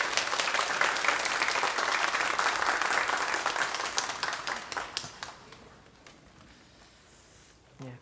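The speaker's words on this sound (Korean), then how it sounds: "큰 박수로 환영해 주시기 바랍니다." Applause from a church congregation welcoming a pastor to the pulpit at a Sunday teacher-dedication worship service, a dense crowd of clapping that holds steady and then thins out and fades over the last few seconds.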